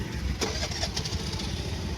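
A motorcycle engine runs close by near the Mettur reservoir on the Kaveri River in Tamil Nadu, a rough, throbbing mid-pitched idle with a brief rev at the start over ambient outdoor noise.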